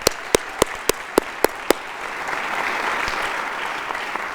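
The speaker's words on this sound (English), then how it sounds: "Let's give them a round of applause" University commencement crowd applauding graduates at Utah Valley University's 2021 ceremony: a few sharp, evenly spaced claps close by open it, then a broad, steady wash of distant crowd applause swells and continues.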